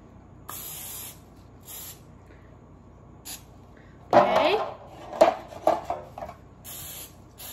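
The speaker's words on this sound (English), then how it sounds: "Spray my pans. I use Pam." Short hissing bursts of Pam cooking spray aimed at baking pans, a few quick sprays followed by a longer, louder spray with some clattering.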